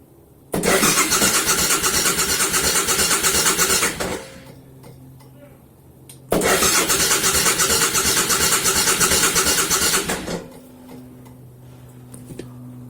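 A Suzuki Intruder 1500LC motorcycle engine, roused after long storage, cranks loudly twice for roughly four seconds each, with a rapid ticking starter churn and a low idle-like hum between attempts, close to the listener.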